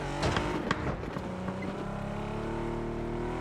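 A car in the PUBG battle royale game drives past with a droning engine hum that starts with a louder rumble and settles into a steady tone, moderately distant, without talk.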